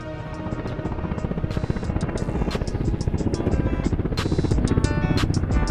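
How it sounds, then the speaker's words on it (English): A black twin-rotor helicopter hovers, its steady loud engine whine and rapid rotor chop continuous and close throughout, as a sound effect. "you see this black, two-prop helicopter start to hover over the marina"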